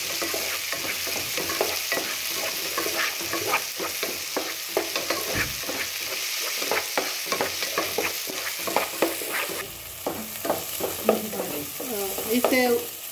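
Tomato and onion frying together for Mangalore-style prawn sukka, with a constant sizzle broken by frequent spatula scrapes and stirs, close up and without speech.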